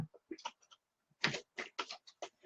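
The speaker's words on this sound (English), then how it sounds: "He's chewing on a cardboard box." A small rodent chews on a cardboard box, giving close, quiet clusters of crisp scratching and gnawing clicks in irregular bursts separated by short silences.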